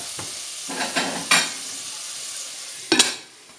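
Pumpkin pieces seasoned with salt and pepper cooking in a covered pan, a soft steady sizzle broken by a few scraping stirs and lid clatters close by, then quieting at the end.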